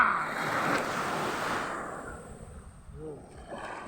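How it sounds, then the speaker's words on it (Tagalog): Ocean surf rolls and washes continuously with gusty wind rumbling across the microphone, fairly close and steady, easing off slightly toward the end. "Lang dagat yan oh, naalon."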